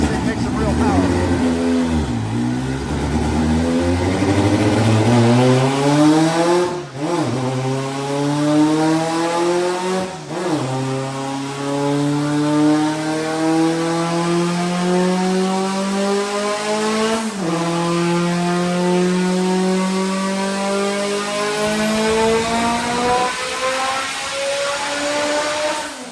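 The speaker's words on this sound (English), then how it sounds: "we're going to pull it in fourth gear now" A powerful car engine pulls hard in fourth gear, its loud roar sweeping steadily upward in pitch through a long run with brief dips, close and continuous, while voices talk over it.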